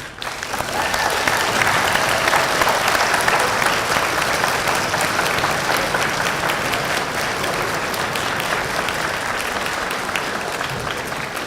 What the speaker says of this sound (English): let's take a moment for you to turn and thank your people with a round of applause too